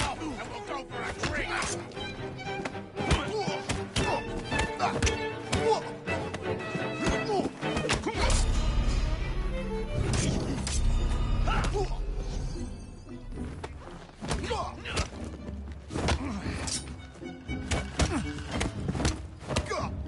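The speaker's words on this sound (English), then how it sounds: "There's a lot of fighting going on by the looks of things." Melee combat in the video game Assassin's Creed Syndicate, with repeated thuds, whacks and crashing impacts over a dense, loud game soundtrack that runs without a break.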